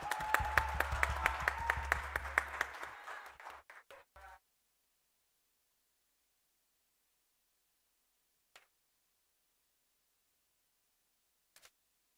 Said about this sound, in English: Please give a warm round of applause to Honorable Ara David.